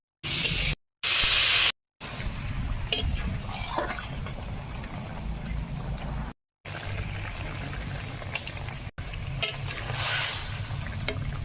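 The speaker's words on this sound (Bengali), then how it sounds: "গুঁড়ো সুন্দর ভাজা হয়ে গেছে, আর জল দিয়ে দেবো।" Water poured into a pan of fried cumin and coriander powder for a bitter gourd and potato curry, hissing and sputtering in a steady loud sizzle with a few short gaps early on.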